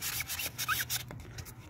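Sandpaper rubs by hand across a damaged car wheel rim in quick back-and-forth strokes, a soft, close scratching that pauses and resumes with a few lighter scrapes.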